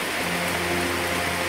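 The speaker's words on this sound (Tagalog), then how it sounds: "habang malakas ang ulan" Heavy rain falls steadily on a mountain trail near Palawan's highest peak, a dense, even hiss without pauses.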